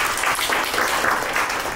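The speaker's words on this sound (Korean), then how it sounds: "큰 박수 부탁드립니다" An audience at a semiconductor industry policy forum claps for a panelist being introduced, a dense, even wash of applause filling the room at a steady level.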